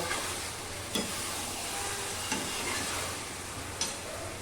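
Minced meat and potato curry (keema aloo chorchori) stirred in a pan as it finishes cooking down, with a soft continuous sizzle and three distinct spatula knocks spaced evenly, fairly quiet and without talk.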